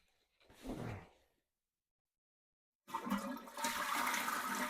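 A toilet flushes in a bathroom with a loud rushing gurgle, then falls silent before water refills with a strong steady hiss and rush that continues to the end.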